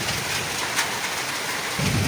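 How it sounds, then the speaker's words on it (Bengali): Heavy rain pouring down outside a house where the street has flooded like a river, a steady loud broadband roar throughout with a low rumble swelling near the end. "এমন বৃষ্টি হচ্ছে বাড়ির সামনে পুরো আজকে নদী হয়ে আছে"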